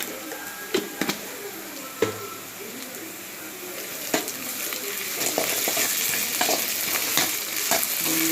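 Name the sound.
frying onions with ginger garlic paste, stirring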